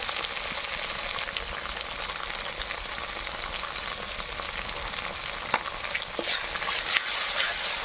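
Ginger paste and chili powder fry in hot oil in a pan while being stirred, a steady close sizzle with occasional sharp scrapes and clicks of the spoon against the pan, no voices.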